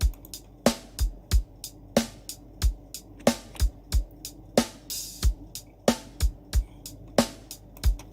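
Programmed kick drum in a reggae beat made in Cubase 11, deep thumping hits in a steady repeating pattern alongside crisp snare and hi-hat ticks, clean and loud with no talking.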